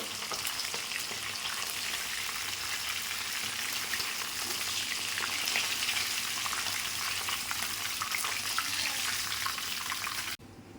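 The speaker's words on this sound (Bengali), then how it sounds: "দেখো মাছটা ভাজা হয়ে গেছে, লাল লাল করে ভেজে নিয়েছি।" Tilapia pieces fry in hot oil in a village Bengali kitchen, giving a loud, steady, dense sizzle and crackle that runs nearly the whole time before cutting off abruptly near the end.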